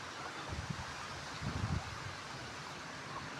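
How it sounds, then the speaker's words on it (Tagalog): Steady outdoor wind in a cabbage garden blowing across the microphone, a low rumbling hiss with a few stronger gusts thumping through. "Pero mahangin kasi dito."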